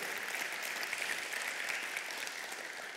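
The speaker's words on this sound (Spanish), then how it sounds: "Le podemos dar un fuerte aplauso" Steady, dense applause from a church congregation, continuous clapping at an even level throughout with no voices on top.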